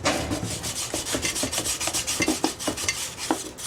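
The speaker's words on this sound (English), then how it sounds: "And I'm doing that with like 220 sandpaper." Sandpaper of 220 grit rasps back and forth over a part's edges in quick, regular strokes, close and fairly quiet, easing the edges during a pressure washer repair.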